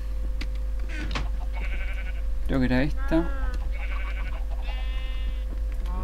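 Sheep in the Minecraft video game bleat several times in short, wavering cries. Someone briefly speaks Spanish over them, and a steady low hum sits underneath.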